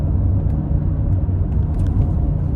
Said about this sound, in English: Stonking big V8 in this car. 5 litre, and she really shifts.